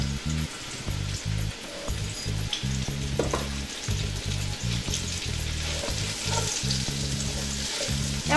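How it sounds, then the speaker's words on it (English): Mushrooms sizzle and fry steadily in a pan while being stirred, with rhythmic scraping clatter from the utensil throughout; close, continuous and fairly loud. "Keep stirring those mushrooms so that they don't get burnt."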